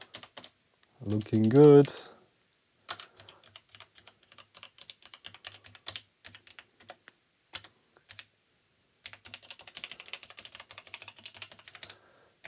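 Someone types in quick uneven bursts on a pre-production A1200.net mechanical keyboard for an Amiga, with close, crisp key clicks. A short spoken remark comes early, then clicking runs on with pauses and grows denser toward the end.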